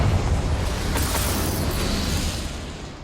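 Confringo fire spell from Hogwarts Legacy bursting in a sustained, loud explosive roar with a sharp crack near the one-second mark, then a broad rumble that slowly fades, no voices.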